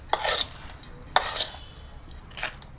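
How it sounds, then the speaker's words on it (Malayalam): Potting soil mixed with manure is stirred by hand in a hanging pot for a turtle vine, giving three separate scraping, rustling strokes with quiet gaps between them and no talk. "ഈ ഹാങ്ങിങ് പോട്ട് നല്ലതുപോലെ അങ്ങോട്ട് ഇളക്കണം"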